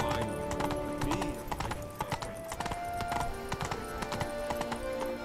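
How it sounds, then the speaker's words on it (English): Horse hooves clip-clopping steadily in The Witcher 3 video game, a continuous close rhythm of hoofbeats with a brief whinny and game ambience underneath. "Whoa there, Roach"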